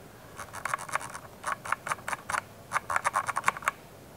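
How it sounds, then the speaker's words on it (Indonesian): The scroll wheel of a Logitech G Pro X Superlight mouse clicks through notches in quick bursts, crisp close ticks in uneven clusters with short pauses between, alone with no talk. "Terus kita coba ini ya scrollnya."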